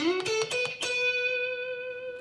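Electric guitar playing a short blues lick higher up the neck: a few quick picked notes, then one bright note left ringing and slowly decaying, clean and close with no voices.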